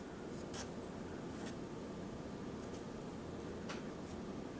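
A pencil scratches and traces across a sheet of paper while a tessellation piece is drawn, giving a faint, continuous rubbing hiss broken by a few sharper strokes, with no voices.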